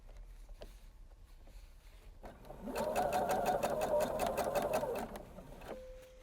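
Sewing machine stitching blouse fabric, a quiet start and then a steady, fast mechanical chatter of needle strokes for about two and a half seconds before it stops, close and clear with no speech over it.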